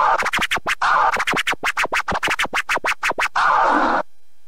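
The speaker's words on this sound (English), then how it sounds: "or I'm going to teach you how to scratch this pattern." Rapid scratch pattern played from a computer keyboard in Virtual DJ software, a fast rhythmic run of about twenty short, sharp chopped bursts with a couple of longer sustained swipes at the start and end, loud and alone.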